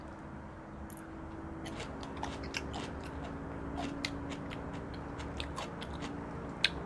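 Salty pickled cucumbers being chewed up close, with a quiet stream of small crunchy bites and clicks over a steady low background hum.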